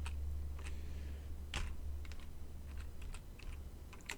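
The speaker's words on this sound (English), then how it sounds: "in the browser screen, we are going to type Weymouth" Quick, irregular keystrokes on a computer keyboard, clicking close and clear over a low steady hum, with one louder key strike partway through.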